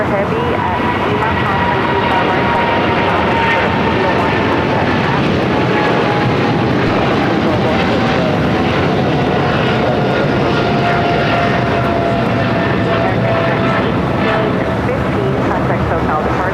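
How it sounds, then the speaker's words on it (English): An American Airlines Boeing 777 rolls down runway 25 right at LAX for takeoff, a loud, sustained jet engine roar with a slowly falling whine, heard steadily throughout with voices faintly underneath. "The American 777 now rolling down 25 right."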